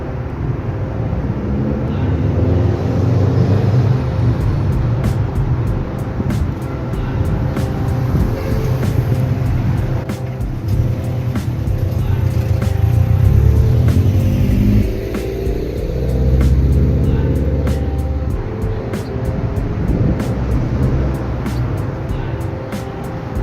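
A car's engine rumbling and surging as it accelerates, then easing as it brakes hard, heard from inside the cabin, loud and continuous with faint ticking clicks and no talking.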